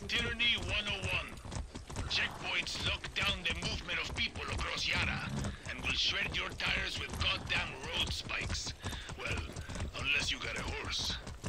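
Rhythmic hoof clip-clop of a horse ridden at pace in the video game Far Cry 6, mixed into busy game audio with music and voices talking over it throughout.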